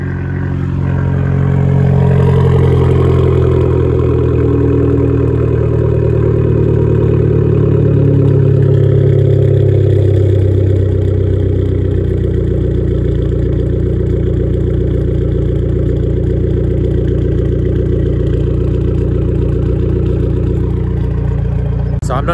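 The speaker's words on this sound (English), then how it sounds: "there's a bit of like a metal clang in my exhaust" An Abarth 595 engine revs and holds under load close up, a loud, steady droning exhaust with rising and falling pitch; any metallic clang or rattle from the exhaust stays buried in the engine noise.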